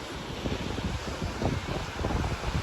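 Large sea waves surge onto a crowded beach during an idol immersion, with a steady, dense roar of surf and wind buffeting the microphone and no clear voices.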